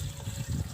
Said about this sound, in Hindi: अब इसमें ऐड करते हैं पानी